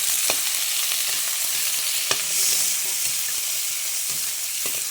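Onions fry in a pan with a steady close sizzle, broken by a few sharp clinks of a utensil against the pan, with no speech.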